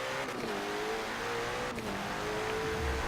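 A McLaren 720S in Forza Motorsport 7, its engine roaring loudly and steadily under load with a gliding pitch, a close, constant snarl throughout.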